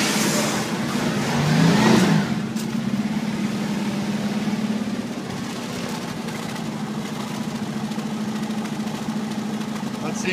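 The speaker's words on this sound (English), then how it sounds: "got a running 289. She does run." A 1965-66 Ford Mustang coupe's 289 V8, long unused and fitted with a new gas tank, runs at a steady idle, with a louder rev swell near the start before settling into an even, continuous rumble.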